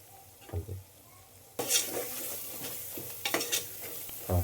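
Mutton sizzling in a pan with ginger garlic paste and turmeric, stirred now and then, with a steady frying hiss and bursts of louder spatter and scraping, close and with no talk.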